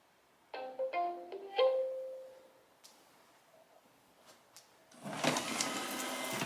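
An iRobot Roomba s9+ robot vacuum set to its highest suction power gives a few short electronic start-up tones, goes quiet, then bursts into a loud, steady whirring roar of motor and brushes.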